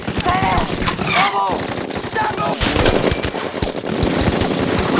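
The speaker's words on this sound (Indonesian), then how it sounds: "Tembakan bertubi-tubi dari musuh" Rapid bursts of enemy machine gun fire in a war film battle scene, dense overlapping volleys with sharp single shots, loud and close throughout, with shouted voices breaking in briefly.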